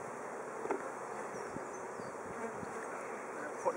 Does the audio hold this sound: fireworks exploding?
no